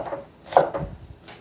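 A knife chops green onion and carrot on a cutting board, a few distinct close chops with a sharp thud in the middle, with no talking.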